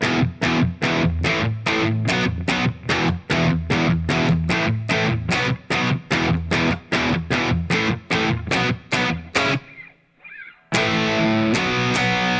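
Distorted electric guitar power chords strummed in short staccato quarter-note downstrokes from a pop-punk song, a loud steady chug that breaks briefly before resuming.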